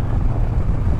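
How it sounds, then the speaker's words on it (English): A Harley-Davidson motorcycle engine, a Softail Low Rider ST or Road Glide, revving briefly as a loud, close, low-pitched rumble with no voices. "Revving it up."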